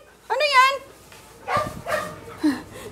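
Dogs yelp and whimper up close in short, high bursts, with a drawn-out whine at the start and a few sharper yips after, while people talk nearby.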